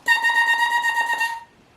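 A bare oboe double reed is blown without the instrument, giving a thin, buzzy, kazoo-like squawk held steadily for over a second before cutting off, close and alone.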